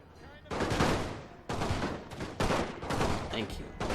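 Musket volley fire in Napoleon: Total War, Great War mod, as massed rifles discharge in several loud, crackling bursts, each fading into a rumbling tail before the next volley.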